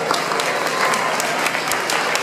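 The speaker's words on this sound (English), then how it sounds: "Let's give Sophia a round of applause." At a fundraiser for a children's home in Nepal, an audience breaks into loud, continuous applause, a dense even wash of clapping close by with no talking.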